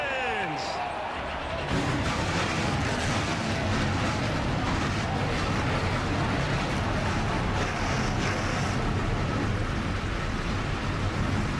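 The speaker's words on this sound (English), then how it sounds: "Drivers, start your engines!" Race car engines fire up and roar together on the grid at Myrtle Beach in the NASCAR Racing 2003 video game, a loud continuous dense engine drone that starts suddenly after a brief opening sound.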